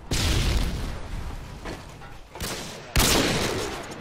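A stun grenade bursts during a Call of Duty match, one of several loud booming blasts and rushing noise bursts, with the sharpest bang landing near the end amid continuous battle din.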